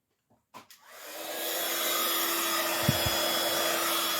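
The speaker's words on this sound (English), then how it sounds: "So we're just going to heat emboss it." A heat gun melts clear embossing powder for card-making: a couple of clicks, then the blower spins up into a steady, close whooshing hiss with a faint whine, joined briefly by two short low thumps.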